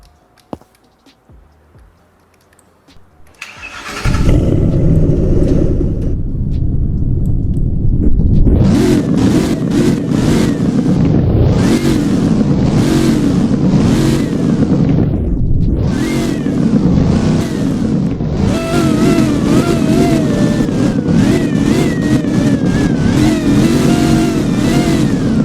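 A car engine in the Roblox driving game Southwest Florida, fitted with a new turbocharger, cranks and starts, then revs repeatedly with a deep exhaust tone, loud and close, rising and falling without talk.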